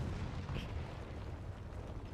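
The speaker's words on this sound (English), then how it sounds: "We have explosion incoming." An in-game explosion in Final Fantasy XIV during a Christmas Hildibrand event, heard as a dull, sustained low rumble with a brief brighter burst, steady and moderately loud throughout.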